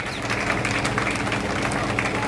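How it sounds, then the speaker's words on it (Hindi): A crowd at a rally claps in sustained applause, dense and steady, as at a large political convention, with no clear voice above it. "तालियां रुकनी नहीं चाहिए"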